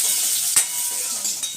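Carrot and potato pieces frying in a pan give off a steady, bright sizzle, broken by a couple of quick stirring clinks.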